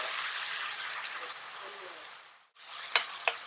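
Onions fry in a stir-fry pan with a soft, steady sizzle that fades out partway through, then a couple of sharp clinks, all fairly quiet and close.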